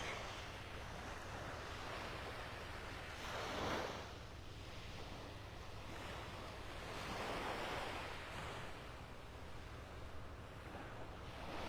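Ocean waves wash onto a beach in North Naples, Florida, on a morning with the tide coming in, a soft, steady surf with gentle surges and some wind rumble, no voices.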